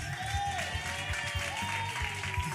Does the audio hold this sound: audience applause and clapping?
yes